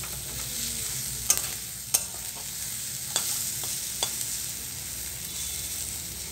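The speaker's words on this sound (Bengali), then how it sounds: "কালো জিরা লঙ্কা দিয়ে ভাজছি।" Nigella seeds and chili frying in a hot pan, giving a steady bright sizzle with a few sharp pops and crackles scattered through it, close up and with no talking.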